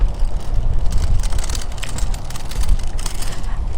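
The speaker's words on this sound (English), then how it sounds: "I'm going into a very windy corner of the sanctuary here." Steady wind buffeting a microphone in an exposed corner of an animal sanctuary, a continuous low rumble with gusty swells and no speech.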